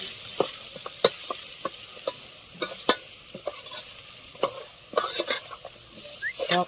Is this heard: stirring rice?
yes